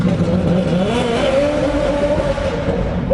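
A Pontiac Trans Am WS6 with a developing clutch problem accelerates hard, its engine note climbing and dipping as it struggles to shift into third gear, loud and close throughout.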